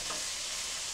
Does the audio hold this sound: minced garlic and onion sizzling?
yes